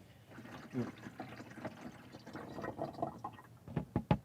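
Water pours and trickles into the coolant tank of a 1993–1998 Jeep Grand Cherokee, a soft continuous gurgle with a few louder splashes near the end.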